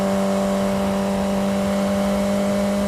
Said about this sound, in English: Cars coming up behind me.